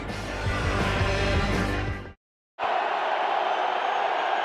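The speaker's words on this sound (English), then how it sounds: "the crowd here in Seattle in full throat" Stadium crowd at a Seattle Seahawks home playoff game against the Washington Redskins in 2005, a loud sustained roar that cuts out abruptly for half a second, then resumes as a steady dense wash of noise.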